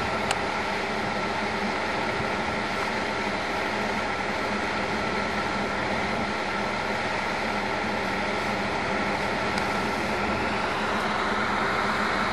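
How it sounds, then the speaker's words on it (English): A seismic shaker truck engine runs in a steady, continuous drone close by, a broad mechanical rumble with no talk over it. "Hear the truck running, shaker truck."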